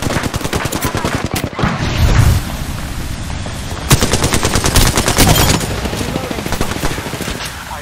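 Loud, rapid automatic gunfire from the Apex Legends video game, with dense bursts of shots and a couple of heavier booms in between.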